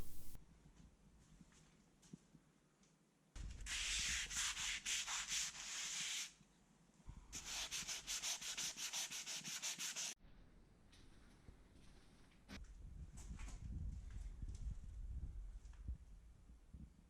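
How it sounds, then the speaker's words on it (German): Hand sanding scratches across an interior wall surface in two long bursts of steady, rhythmic rubbing, then quieter scraping continues. No talking. "daher schleife ich sie mit der Hand."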